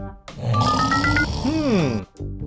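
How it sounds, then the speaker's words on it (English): A cartoon snoring effect for the Earth as a character: a long rattling, grunting inhale with a warbling tone, then a sliding whistled exhale, a single loud breath cycle, close, with a voice-like cartoon quality. "if Earth started snoring, even the trees on planet Earth may keep on shaking"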